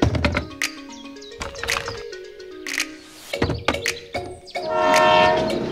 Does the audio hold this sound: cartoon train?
yes